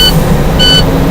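Truck engine idling with the idle raised to build air brake pressure, a steady low drone with two short electronic beeps from a warning alarm sounding over it.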